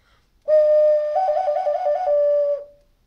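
A single steady tone blown into an ocarina, a pure clear whistle-like note held for about two seconds with a slight wavering in the middle, close and alone.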